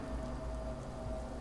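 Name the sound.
heavy rain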